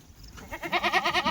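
A Kathiawari goat bleats in a quick series of wavering cries, close and moderately loud, set among a loaded group of goats with faint background noise.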